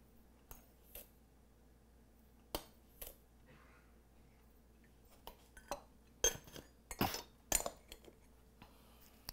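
A spoon clinks lightly against a container while salt and sugar are measured out for a marinade for grilled fish, giving scattered, sharp metallic taps close by that cluster more densely near the end, with no talking.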